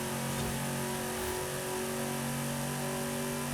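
A muscle car engine in Forza Horizon 5 drones steadily at high revs near top speed, a loud, sustained tonal hum that holds constant without shifts or breaks.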